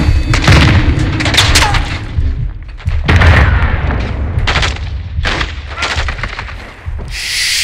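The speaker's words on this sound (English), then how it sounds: "They're launching grenades!" Grenade blasts and gunfire in Call of Duty: Modern Warfare 2, heavy booming explosions and bursts of shots arriving one after another, loud and close, with battle noise in between.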